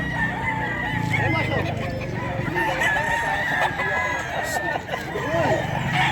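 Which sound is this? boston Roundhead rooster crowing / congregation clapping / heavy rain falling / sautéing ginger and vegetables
boston Roundhead rooster crowing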